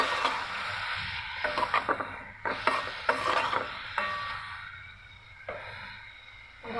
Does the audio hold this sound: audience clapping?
no